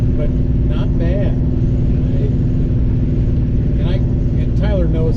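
Engine of an original, unrestored 1969 Chevy Impala SS with the L72 427 V8, rumbling steadily and loud on a test drive, with a voice talking over the engine.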